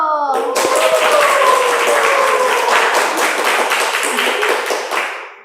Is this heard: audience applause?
yes